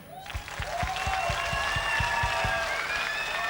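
A live concert crowd in Sonnino breaks into loud, sustained applause, dense clapping swelling quickly and holding strong throughout, with scattered cheers mixed in.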